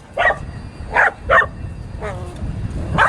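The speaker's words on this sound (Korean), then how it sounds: "짖지 말고 이리 와" A dog barks in short, sharp bursts, about five barks spaced unevenly, close and loud, with a person speaking around them.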